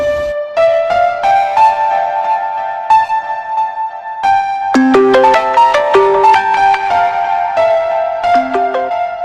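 A mobile phone rings with a bright, melodic tune that repeats loudly and steadily for several seconds, with no one speaking over it.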